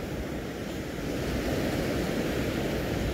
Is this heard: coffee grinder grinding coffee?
no